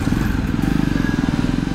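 A motorcycle ridden along a road in northeast India, its engine thrumming in a steady rapid pulse, close and fairly loud, with wind rush and faint clatter over the whole stretch.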